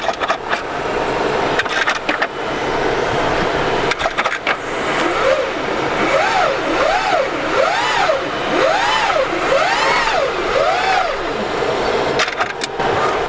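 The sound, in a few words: hybrid car gearbox gears and electric motor whine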